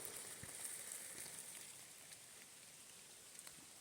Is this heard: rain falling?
yes